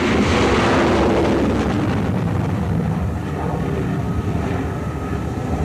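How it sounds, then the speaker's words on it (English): An F-18 Hornet launches from the deck of the aircraft carrier Nimitz at sea, a loud continuous jet roar that is strongest at the start and slowly eases into a steady rumble with wind noise. "There goes an F-18 Hornet off the deck of the Nimitz."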